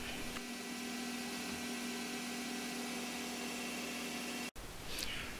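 A CNC lathe stub drilling into scrap brass: a steady machine whine with a sustained tonal hum, running evenly for about four and a half seconds before cutting off, then a brief hiss of coolant or air.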